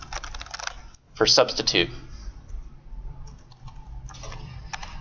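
Keys clatter on a computer keyboard while text is entered in the vim editor, a short burst of close clicks between stretches of a lecturer talking.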